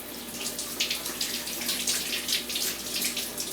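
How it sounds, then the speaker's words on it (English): Running tap water rinses quail in a kitchen sink, a steady close splashing hiss with no voices over it. "I'm going to give these guys a quick rinse."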